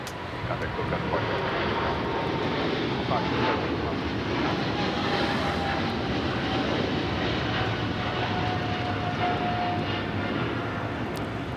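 A Turkish Airlines Boeing 777-300ER bound for Istanbul takes off at LAX. Its jet roar holds steady and fairly distant for the whole stretch, with faint talk underneath.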